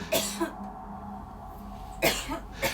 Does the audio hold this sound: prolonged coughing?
yes